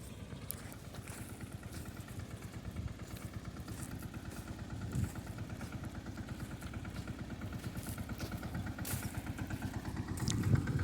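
A tractor engine running in a field during peanut harvesting, a steady low rhythmic chugging throb that holds throughout and swells slightly near the end, no talk.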